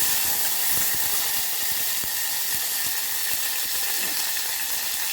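Onions frying in oil with mustard seeds, urad dal and cumin, giving a steady close hiss and sizzle, with faint sputtering pops scattered throughout and no voices.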